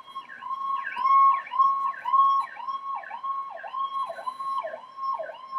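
An emergency siren sound effect, played as a joke alarm, wails in a fast repeating up-and-down pattern, loud and clear with nothing else heard.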